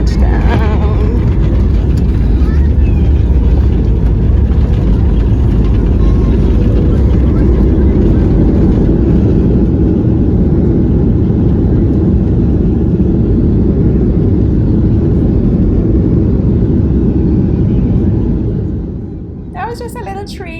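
A passenger airliner touching down and taxiing at St. Thomas in the US Virgin Islands, heard from inside the cabin as a loud, steady engine and rolling rumble that eases near the end, with people talking faintly.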